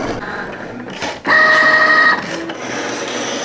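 A Cricut cutting machine slicing a card for a layered Mother's Day card, giving a steady mechanical whir with a brief louder tonal motor passage in the middle, close and alone.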